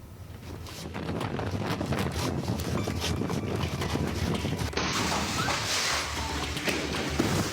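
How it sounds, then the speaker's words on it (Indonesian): Strong storm wind in Saudi Arabia roars in a continuous loud rush, buffeting the microphone with heavy gusty noise that intensifies partway through, no talk. "Badai memicu angin kencang, hujan deras, dan banjir yang menyebabkan kerusakan meluas."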